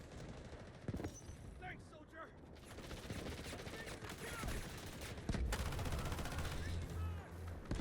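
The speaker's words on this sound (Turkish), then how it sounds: "Nereden sıktı lan?" Gunfire crackles in the military shooter Delta Force: Hawk Ops, with scattered and rapid overlapping shots over a busy battlefield din. A voice talks partway through, and a low droning tone rises near the end.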